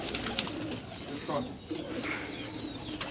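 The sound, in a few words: pigeons cooing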